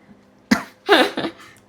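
A person nearby coughs while cooking rotis in a village kitchen, a short burst of two or three harsh, close coughs in an otherwise quiet room.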